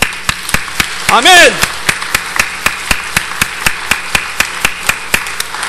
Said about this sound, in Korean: 우리 인생을 통해 새로운 잔치를 일으키시는 그 하나님께 감사와 영광의 박수 올려드리겠습니다.